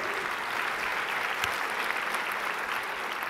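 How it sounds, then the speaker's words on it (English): An audience at a conference talk applauds steadily, a brief, even burst of clapping heard from a distance. "please, you know, clap for that"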